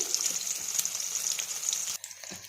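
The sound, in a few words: onions sautéing in a pan for tamarind gravy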